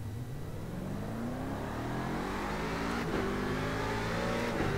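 Corvette C7 DP prototype race car in the iRacing sim at Road Atlanta, engine revving hard and climbing steadily under acceleration, loud and continuous with a brief shift-like dip near the end.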